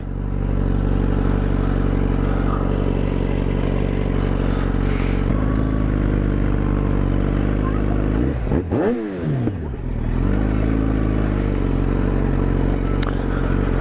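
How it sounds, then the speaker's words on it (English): A 2010 Yamaha FZ1N naked motorcycle engine runs loudly and steadily close by, its pitch rising at one point, then blipped in a quick rev that dips and returns to a sustained idle-like drone. "We boys always love a revvy engine"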